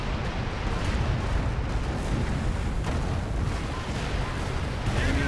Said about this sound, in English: Just take them with a very short-range Calliope barrage.